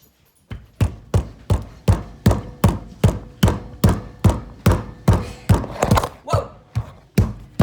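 Noodle dough being pounded in a steady run of about fourteen heavy, evenly spaced thuds, loud and close, with no talk over them.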